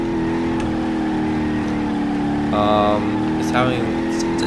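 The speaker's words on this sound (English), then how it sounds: "It's trying, it's spinning, but it doesn't have enough power to drift." A Gavril Barstow muscle car in BeamNG.drive revs steadily with a sustained engine drone, rising into a brief louder surge as the wheels spin without breaking into a drift, with someone talking over it.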